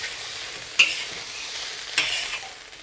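Nasi goreng kampung (village-style fried rice) is stirred in a hot pan, with two sharp spatula scrapes over a steady, loud sizzle of frying and no voices.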